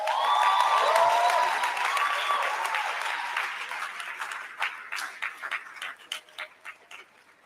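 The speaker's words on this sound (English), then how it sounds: "If you are clapping, you can do a lot better than that." Audience applause at a JAW WAR 2021 event, a dense wash of clapping that fades over several seconds into sparse, separate claps near the end.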